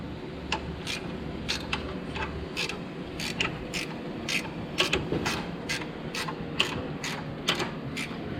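A hand ratchet clicks in quick repeated bursts while loosening fasteners to pull the alternator from a car, sharp metallic ticks in irregular runs over a low background rumble, close up.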